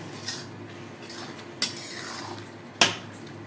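A small spoon scoops sugar into a pot of rice-and-lentil khichuri, giving a soft scrape and then two sharp metallic clinks against the rim over quiet kitchen background.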